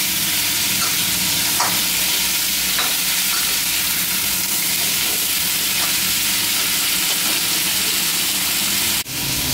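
Pumpkin stir-fried in a hot pan, a loud continuous hissing sizzle with occasional scrapes of the spatula, ending in a sharp clatter.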